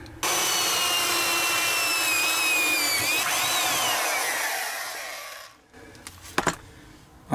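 A power drill bores a hole through a Four Wheel Camper shell from the inside, whining loud and steady, its pitch sagging midway before the motor stops and a few knocks and rattles follow.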